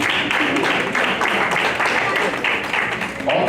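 Audience applause at an awards banquet honoring an organization, a steady dense wash of many hands clapping at close range for several seconds with faint voices mixed in.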